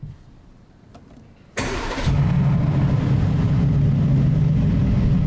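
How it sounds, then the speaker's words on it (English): An Aston Martin Vantage sports car fires up with a sharp, loud engine start, a burst of revs flaring up before it drops to a steady, deep, rumbling idle close by. "So I'll give you the loud start."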